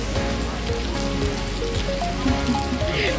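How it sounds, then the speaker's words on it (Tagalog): Heavy rain pours down at Sentosa in a constant, close wash of drumming drops, with a faint tonal hum from the surroundings and nobody speaking. "lakas kasi ng ulan guys"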